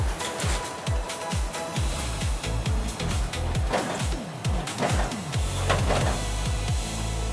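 A Horizon HSF50 air-suction sheet feeder on an iCE STITCHLINER Mark V saddle stitcher runs steadily, with a rapid, regular mechanical rhythm of repeating feed strokes over a constant loud machine hum and whir.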